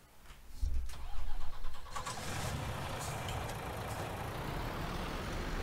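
A truck engine in Farming Simulator 19 cranks briefly and catches, then settles into a loud, steady close idle rumble that continues to the end.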